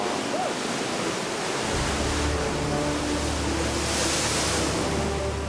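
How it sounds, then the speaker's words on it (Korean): Waves crash and wash steadily against a black lava rock shore, a loud continuous roar of surf with no voices. "그리고 하얀 파도."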